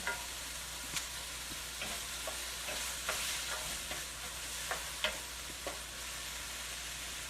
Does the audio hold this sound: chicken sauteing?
yes